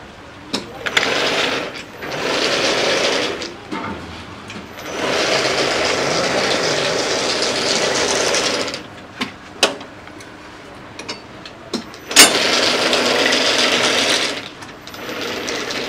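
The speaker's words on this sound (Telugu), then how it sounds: "ఈ మిషన్ ద్వారా స్టిచ్చింగ్ జరుగుతుంది అన్నమాట." An industrial sewing machine stitches a mattress in a factory, a loud steady mechanical whir running in long stretches, broken by stops and sharp clicks between runs.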